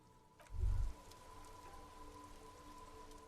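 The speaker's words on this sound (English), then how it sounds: "All around you, rain falls on the great city of Rivershaw." Steady rain falls across a rainy city in the video game Disco Elysium, a soft constant patter with a brief louder low thump near the start and a faint steady tone underneath.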